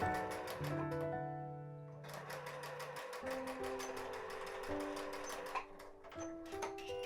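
A sewing machine stitching bias tape on a blazer-to-vest dress runs in a fast, steady mechanical ticking rhythm, briefly pausing and restarting, with tonal motor hum underneath.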